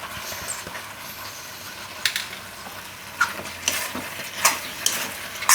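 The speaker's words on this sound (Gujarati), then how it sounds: "હવે આમાં આપણે આ પાસ્તા નાખી દે" Pasta added to a pan with palak sauce and stirred. A soft sizzle sits under intermittent scraping and clattering strokes from a utensil, with a few sharper knocks toward the end. It is close and moderately loud.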